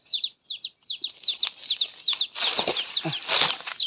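A captured wild hen held by the feet flaps her wings in rapid bursts, close and loud, while a run of high, regular peeping calls sounds throughout.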